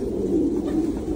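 Thai Titan pigeons on a farm cooing, a low, soft, throaty coo close by that rises and falls briefly over a steady murmuring background.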